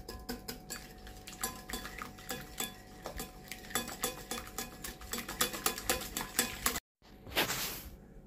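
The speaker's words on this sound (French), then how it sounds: "On mélange." A spoon or whisk stirs chocolate cake batter in a bowl, with rhythmic clinking and scraping strokes against the bowl repeating steadily up close. A brief cut of silence comes near the end, followed by one more scrape.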